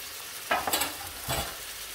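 Frying masala with ginger garlic paste for a south Indian crab curry is stirred in the pan, giving a couple of short scraping swishes over a steady, close sizzle.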